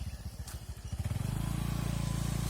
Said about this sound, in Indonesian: ban motornya muter.